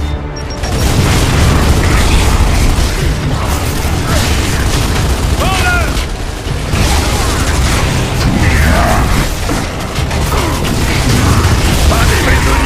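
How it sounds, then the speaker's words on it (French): Explosions and battle noise in the video game Gears of War Judgment, loud booming blasts with mechanical clatter and gunfire bursts layered throughout, continuous and dense for the whole stretch. "Gare à l'explosion!"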